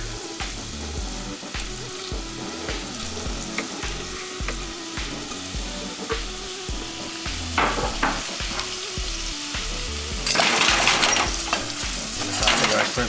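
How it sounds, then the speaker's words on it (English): Shrimp sautéing in hot oil with minced garlic in a pan, a steady loud sizzle with rhythmic stirring and scraping strokes throughout, growing slightly brighter toward the end. "Saute our shrimp in there, get it nice and red."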